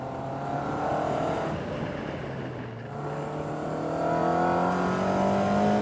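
A Caterham race car is driven hard through S-bends on a racing circuit, its engine note rising and falling continuously throughout at a moderate distance, with no talking.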